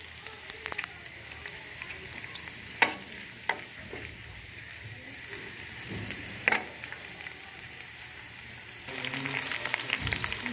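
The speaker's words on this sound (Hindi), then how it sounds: "घी हमारा गर्म हो रहा है, इसमें डाल देंगे प्याज।" Onions frying in hot ghee for chicken yakhni pulao make a steady, moderate sizzle. A few sharp stirring clacks come through, and the sizzle grows louder and fuller toward the end.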